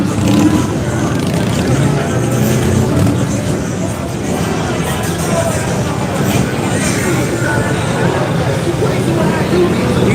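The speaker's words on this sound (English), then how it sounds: "It's just noisy as heck out here. Stereos, exhaust." Loud motorcycle exhausts rumble alongside blaring stereos and crowd babble on Main Street during Daytona Bike Week, a continuous dense roar with engines revving throughout the whole stretch.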